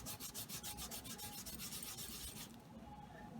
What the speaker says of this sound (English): So here you can see I have taken a fresh wet wipe